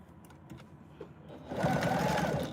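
A sewing machine stitches a seam an eighth of an inch in on a tote bag. A faint hum builds into a steady, louder mechanical whir of rapid needle strokes about halfway through, close by and without speech.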